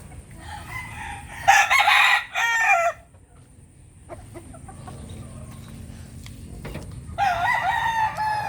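A rooster crows loudly nearby in a hen pen, twice in quick succession, then again near the end, with hens clucking softly in between.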